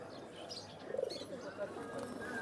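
Pigeons cooing at a crowded pigeon market, a soft throaty coo rising briefly at close range over a murmuring background.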